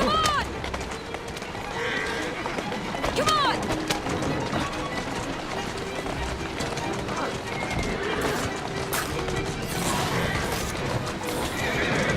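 Horse neighing and galloping hooves pulling a cart in the video game Assassin's Creed Syndicate, with repeated whinnies over steady clip-clop and wheel rumble, as a character calls out under the game audio.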